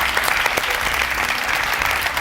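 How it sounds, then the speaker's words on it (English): A crowd claps steadily and densely throughout, a loud, continuous burst of applause with no voices standing out. "A round of applause to our contestants."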